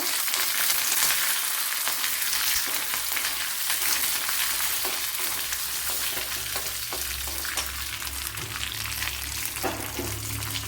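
Three cut dried red chillies sizzle in hot oil for a Kerala raw banana curry, a dense, steady crackle with stirring clatters, close and continuous with no talking.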